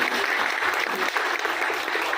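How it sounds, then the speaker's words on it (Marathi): Warm, dense applause from an audience at a sixtieth birthday program as a teacher, Ashok Vetal, receives an award; steady clapping throughout with no talk over it. "मला असं वाटतं या पुरस्कारासाठी निश्चितच सरांसाठी टाळ्या झाल्या पाहिजे"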